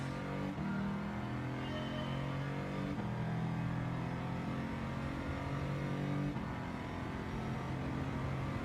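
A supercharged car engine in Gran Turismo 7 drones steadily, its pitch climbing through gears with brief shift dips, a continuous whining roar at close range.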